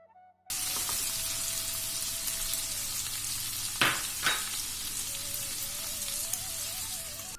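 Onion and tomato fry for ghugni with a steady, rain-like sizzle that starts abruptly and stays even throughout, interrupted by two quick spatula scrapes near the middle; a faint tone hums underneath and nobody speaks.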